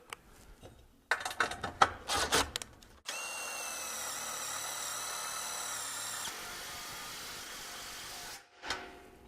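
A power driver sinks a fastener to join a pergola post top plate to its post mount: some handling rattles, then a steady whining spin of several seconds that shifts pitch before stopping, followed by a brief clatter.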